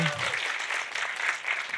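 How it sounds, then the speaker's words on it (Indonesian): Brief burst of clapping from a stand-up comedy audience at a Shopee event, a dense patter that swells and fades as a voice briefly speaks over it. "Boleh minta tepuk tangannya dulu dong buat saya yang ada di sini."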